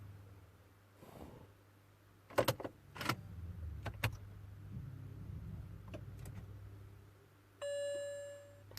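BMW 1 Series E87 warning chime sounding after the ignition is cycled, a steady electronic tone near the end that follows a few clicks and knocks, with a low cabin hum underneath.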